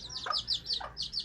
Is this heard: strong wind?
no